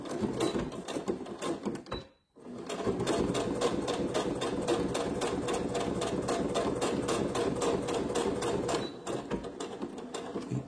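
Sewing machine stitching a small fabric mini handbag keychain, a rapid mechanical chatter that pauses briefly near the start, then runs steadily and close, easing off toward the end, with no talk.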